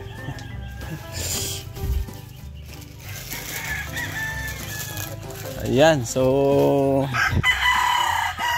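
A rooster crows loudly nearby, rising and falling, amid clucking and background chatter as people talk.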